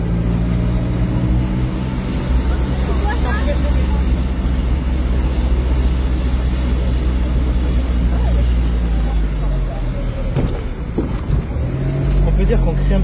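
A Smart Roadster on the road, 20 years after its launch, heard as a steady, loud low engine and road drone with a brief rougher surge near the end.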